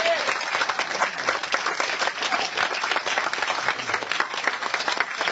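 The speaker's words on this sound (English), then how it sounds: "How about a big round of applause for Mr." An audience claps and cheers at an event honoring a guest, a continuous rattle of many hands at moderate loudness, with some voices under it.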